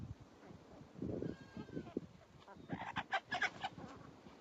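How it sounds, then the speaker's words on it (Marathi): Chickens fed grain in a rural yard, with soft clucking and scattered pecking noises near the ground, followed by a brief burst of louder squawks and bird calls toward the end, light background noise throughout. "कोंबड्याला बी जरा खायला टाकून घेतलं."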